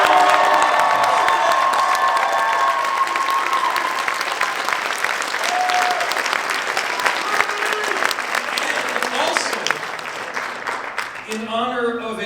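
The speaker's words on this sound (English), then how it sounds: "Give them another huge round of applause." A large convention crowd at Twin Cities Con 2022 applauds loudly and steadily, with cheers and whoops mixed in, and the clapping tapers off as a voice comes in at the end.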